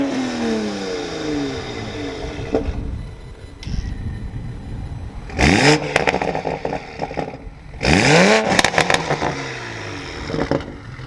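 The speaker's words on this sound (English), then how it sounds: "the A90 already comes with the burbles and everything, but nah, this just amplifies it" Toyota A90 Supra with an aftermarket downpipe revving and then lifting off, its exhaust crackling into loud popping burbles in two bursts, close and loud, with no talking.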